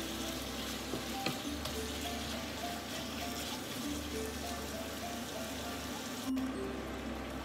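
Beef slices frying in oil in a pan while being cooked with mushrooms, giving a steady, continuous sizzle close by with a low rumble underneath and no breaks throughout.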